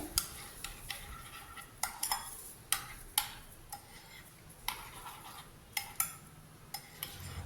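A spoon stirs ragi and chia seed pudding in a bowl, its rim knocks landing as sharp, regular clinks roughly every half second over a soft scraping background, quiet and close.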